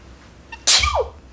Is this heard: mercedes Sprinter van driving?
no